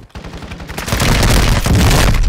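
Dense, rapid gunfire in Call of Duty: Modern Warfare II, loud and close, building into a continuous barrage of overlapping shots that fills the whole stretch.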